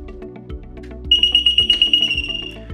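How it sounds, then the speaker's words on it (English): Pivot irrigation control panel alarm triggered by a tripped overload: a loud, piercing high-pitched tone starts partway in and holds steadily, over a rapid pulsing mechanical rhythm and low hum. "This is tripped, you're gonna get an alarm, a globe here, the alarm is gonna sound"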